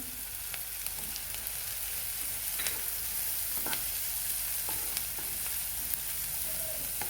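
Onion with turmeric sautés in a pan, making a constant close hiss and sizzle with occasional light clicks and scrapes of a spoon stirring.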